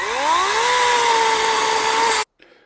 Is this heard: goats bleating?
no